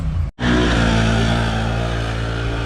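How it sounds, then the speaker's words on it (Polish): A quad ATV engine, a CFMoto, Polaris or Can-Am, strains at high revs while climbing a sand hill at Biały Bór, a loud continuous drone close by after a brief dropout at the start. "Słyszysz ten silnik? On nie ma ducha."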